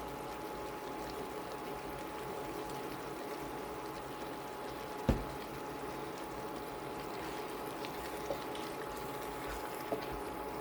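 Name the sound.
sausage, potato and vegetable skillet simmering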